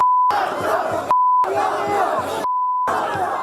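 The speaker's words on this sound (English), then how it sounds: "People yelled obscenities and held up signs protesting the Republican frontrunner." A loud crowd of demonstrators at an anti-Trump protest in Costa Mesa, California yells and roars in a dense, close wall of voices. Bleeps cut in several times, briefly replacing the shouting with a steady tone.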